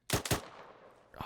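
Two quick loud gunshots from a rifle in the military shooter Arma 3, close and sharp with a short echoing tail, followed by a fainter third report.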